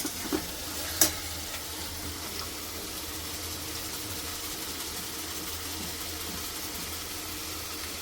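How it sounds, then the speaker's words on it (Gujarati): Chopped onion and capsicum fry in a pan for pav bhaji, giving a steady, soft sizzle with a low hum beneath and a sharp clink near the start. No one speaks. "હવે કાંડા અને કેપ્સિકમ થોડું ગોલ્ડન બ્રાઉન થવા દઈએ"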